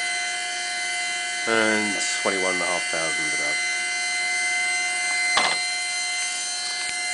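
A pulse motor gives off a steady high-pitched whine and hum, with someone speaking briefly over it.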